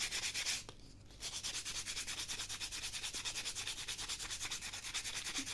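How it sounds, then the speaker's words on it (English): Sandpaper rubs along a small carved model palm tree trunk, a quick rhythmic scratchy rasp of repeated back-and-forth strokes, close and alone after a brief pause near the start. "bit of sandpaper just to smooth it down."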